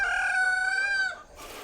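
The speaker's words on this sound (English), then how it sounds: "He feeds his chickens and lambs." A rooster on a farm in Madrid, Iowa crows once, a loud clear call lasting about a second before it fades into quiet.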